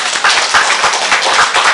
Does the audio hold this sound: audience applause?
yes